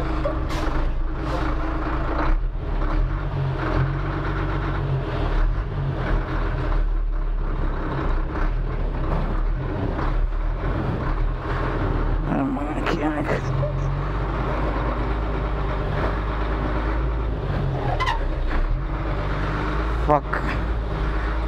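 A lorry's diesel engine drones loud and steady while the truck drives, with brief hisses and clunks over it and people talking in the cab.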